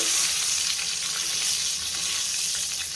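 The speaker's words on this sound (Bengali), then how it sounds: "আর এদিকে বেগুন ভাজতেছি" Slices of eggplant fry in hot oil with a dense, continuous sizzle that holds close and fairly loud for the whole stretch, with no talking.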